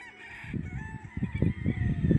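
A bulik gamecock on a farm crows in a loud, ragged, drawn-out call close by, heard alone without talk.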